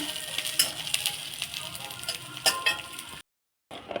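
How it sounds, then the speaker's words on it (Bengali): Steady sizzling of garlic frying in oil, with a few sharper crackles and spatters, then a brief cut to silence near the end. "রসুনটা ভাজা হয়ে গেছে"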